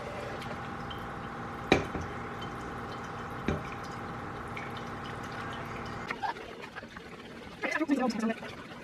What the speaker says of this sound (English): I like to just dump it in by scoops here because it's pretty hot and it can get splashy.